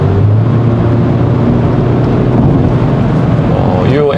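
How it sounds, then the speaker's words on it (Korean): A 2022 Land Rover Defender 110 P300 petrol engine drones from inside the cabin at steady revs, a loud low bass-heavy hum with broadband road and wind noise layered on top, continuous throughout. "이 엔진 음색을 들어보면은 뭔가 가솔린 엔진이 아니라 약간 좀 디젤처럼 이렇게 낮게 좀 깔리는 그런 음색이에요"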